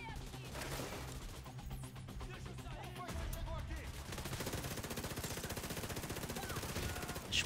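Rapid bursts of gunfire in The Division 2: Warlords of New York, rattling automatic shots that grow denser and steadier toward the end, fairly quiet overall.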